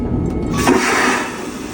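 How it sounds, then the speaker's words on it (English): A loud, rushing vacuum whoosh of an airplane toilet flushing, with steady broadband noise throughout and no talking. "I didn't know that is how toilets sound in the airplane."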